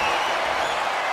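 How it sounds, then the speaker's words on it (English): Constant roar of an arena crowd in the WWE 2K23 wrestling game during a John Cena and Nikki Bella versus The Miz and Maryse tag match, a steady wash of cheering and noise with no breaks. "What a raucous crowd here tonight"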